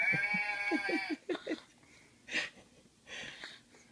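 A sheep bleats in a quick series of short, wavering cries up close, then a few softer calls follow after brief pauses.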